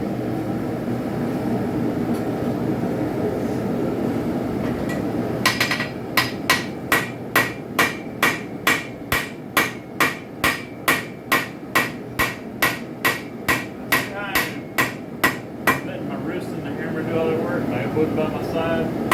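A hammer strikes a spike knife blank on an anvil about twenty times in a steady, evenly spaced run of sharp metallic rings, after a stretch of quiet talk and room noise.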